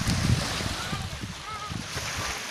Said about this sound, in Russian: ну вот мы наконец пришли к морю